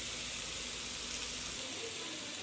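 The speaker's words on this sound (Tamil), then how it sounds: "இப்போ நம்ம வெங்காயம் போட்டு தாளிக்கலாம்" Onions tempering in hot oil, a faint continuous sizzle and crackle holding steady throughout, close and alone without any talk.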